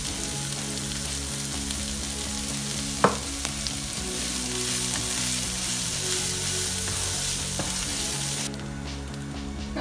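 Onions sauté in a pan for semolina upma with a continuous close sizzle, one sharp spatula tap early on, and a few faint stirring sounds.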